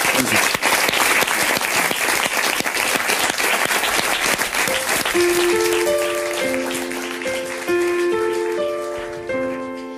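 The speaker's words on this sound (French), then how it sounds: "on l'applaudit bien fort" A TV studio audience applauds a singer after her performance of a French chanson, loud sustained clapping from a crowd that carries on as music with clear sustained notes rises beneath it.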